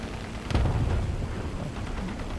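A single burst from the Ju-87 Stuka's gun pod in a War Thunder-style ground battle game, a sharp report followed by a low rumbling tail and steady engine drone.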